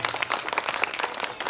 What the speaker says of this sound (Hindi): एक बार जोरदार ताली उनके लिए स्वागत कीजिए।